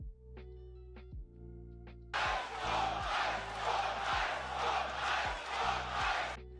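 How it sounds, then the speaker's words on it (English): A live arena crowd at an AEW championship wrestling match between Brody King and MJF erupts into loud, sustained cheering and roaring after a quieter opening with a few sharp knocks, the roar swelling and surging in waves until it cuts off. "That cheer right there was live last night."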